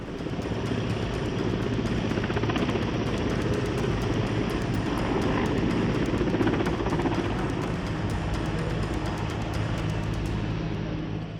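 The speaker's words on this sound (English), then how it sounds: "Choppers belonging to both the Army as well as the Air Force have brought back thousands of stranded people to safety" A Russian-built Mi-17 V5 military rescue helicopter flying in the hills, its steady rotor thump and engine roar continuous and moderately distant throughout.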